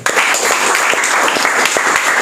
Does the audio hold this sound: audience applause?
yes